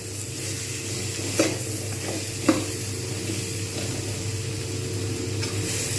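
Spinach sizzles steadily in a pan with chilli and turmeric powder, for a Bengali spinach ghonto, while a spoon scrapes and knocks against the pan a couple of times.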